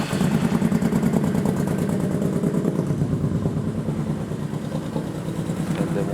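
A Honda VTX 1800 motorcycle engine idles close by after starting, with a steady, loud, low rhythmic thumping and some mechanical clatter throughout, and no voices over it.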